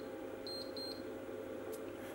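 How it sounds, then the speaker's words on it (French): A FusionChef Diamond immersion circulator's timer alarm gives four short, high electronic beeps in two quick pairs, faint and clean over a steady low hum. "L'alarme 3 est arrivée à son time aussi, on va donc l'arrêter."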